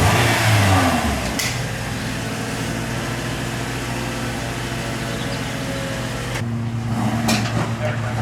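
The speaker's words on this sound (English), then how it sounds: "Cold start on a 2016 Toyota Corolla" A 2016 Toyota Corolla, written off as totaled, cold-starts and revs up nearby, then settles into a steady, loud mid-pitched idle with a short second rise in engine speed near the end.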